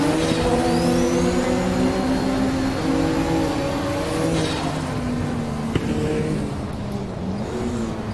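A race car engine in Assetto Corsa drones steadily through upshifts, with the tone dropping at each short shift and holding a smooth, loud whir with no voices.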